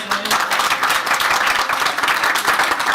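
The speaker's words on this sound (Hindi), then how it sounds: "मैं ये चाहूंगा कि वीरसीमल, लीलाराम और मुखी विनोद के लिए माता हिंगलाज पे तालियां बजाई जाए" Pilgrims at the Hinglaj Mata temple clap together in a dense, steady round of applause that runs loud and continuous throughout.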